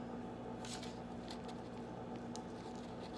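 Scissors trim paper-backed fusible appliqué for an iron-on fleece project, giving a few soft, crisp snips spaced irregularly over a quiet, steady background hum.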